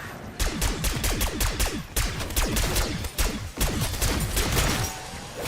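Rapid gunfire in the video game Black Ops 6 fills the clip: dense, loud overlapping bursts of shots in a near-continuous fusillade with brief gaps, no talking.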